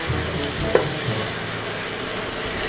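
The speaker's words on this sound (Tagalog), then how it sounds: "Haluin lang natin para ma-blend siya maigi sa ating pork." Pork binagoongan being stirred in a frying pan with shrimp paste and a little sugar, a steady close sizzle of frying throughout, broken by a sharp scrape or clack of the utensil near the start.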